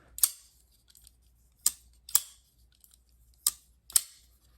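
A folding knife with a front flipper is snapped open and closed repeatedly, giving five sharp, crisp metallic clicks at uneven intervals, close and loud against near silence.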